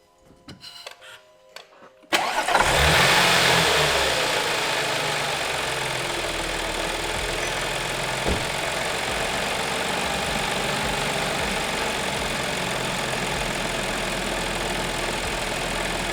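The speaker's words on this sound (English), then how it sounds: "right now we're gonna start the car up and make sure everything's good" A few clicks and a brief crank, then an Audi B8.5 S4 engine with a newly installed single pulley upgrade catches and settles into a steady, loud idle that runs on with a constant hum.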